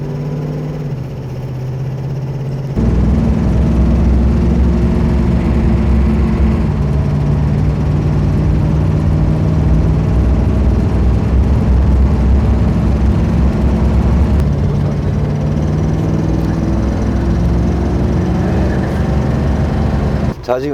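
A 1972 Dodge Challenger with a three-speed A727 automatic transmission on a test drive, its engine droning loudly inside the cabin and rising and settling through gear changes, with someone talking over it.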